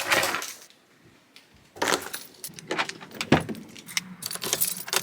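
Car keys jangle and clink in short, irregular bursts close by, with a quiet pause between handlings and no speech.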